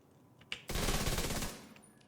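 Video-game gunfire, a dense sustained burst of automatic shots that starts abruptly after a single sharp crack and runs for under a second before cutting off, fairly close and loud over quiet background.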